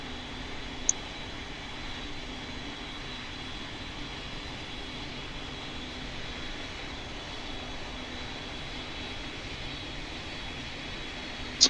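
A steady, broadband jet engine roar of an airliner taking off in the Pilot Training Flight Simulator game, held at a constant level throughout with no speech.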